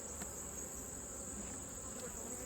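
Honeybees hum in a dense, steady drone from an opened hive box, close and continuous with no pauses, backed by a high, thin whine throughout.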